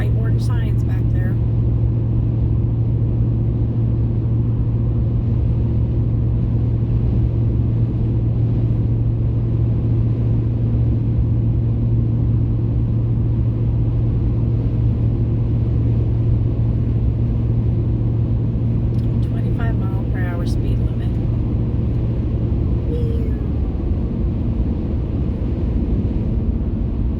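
Steady loud road rumble and engine drone from inside a car on a new highway through a construction zone, with a faint whoosh of another car passing near the end, no voice.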